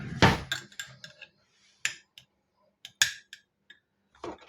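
Spoon and cutlery are handled in a kitchen while cold tapas are prepared, giving a string of sharp metallic clinks and ticks at uneven intervals, close by with quiet gaps between.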